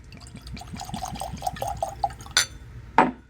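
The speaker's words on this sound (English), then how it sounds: "let's pour it in our glass" Green River bourbon whiskey glugs and pours from the bottle into a glass in quick rhythmic bursts, close and clear, ending with a couple of splashy clinks.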